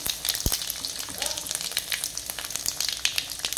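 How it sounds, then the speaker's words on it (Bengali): Five-spice, bay leaf and dried chilli frying in hot oil, a steady crackling sizzle with small pops throughout and a brief low thump near the start. "দিয়ে দেবো 5 ফোড়ন, তেজপাতা, শুকনো লঙ্কা ফোড়ন"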